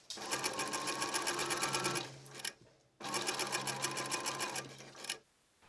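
A sewing machine stitches a curved seam on a waistcoat, running in two rapid, rattling bursts of about two seconds each with a brief pause between, close and clear.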